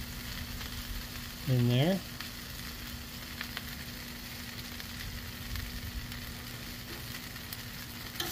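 Cheese and green chili brisket fry on a tortilla in a pan, giving a steady crackling sizzle throughout, with a brief voice speaking near the start.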